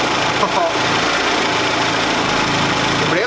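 A Saab engine running for the first time, a loud, close, continuous mechanical roar that holds steady without letting up.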